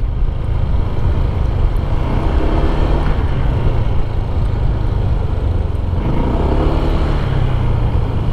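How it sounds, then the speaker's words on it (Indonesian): A Honda PCX 160 scooter rolls down a descending road under braking, with a steady low engine and road rumble plus wind, near and fairly loud, fading a little and swelling again with no talk. "Nah ini saya juga melewati jalan turunan untuk mencoba rem motor ini"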